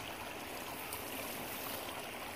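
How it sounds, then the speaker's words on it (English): Irrigation water flows steadily through a channel, splitting to run north and south, a continuous rushing, gurgling stream close by with no pauses. "Water splits right up there. Half of it goes north and half of it goes south."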